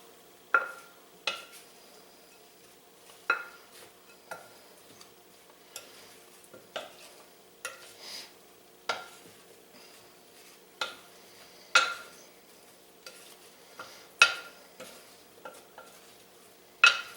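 Corned beef hash mixture with thyme being stirred in a pan, a spoon scraping and knocking in irregular strokes about once or twice a second, crisp and close over a quiet background.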